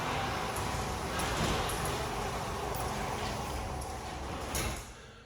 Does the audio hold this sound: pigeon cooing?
no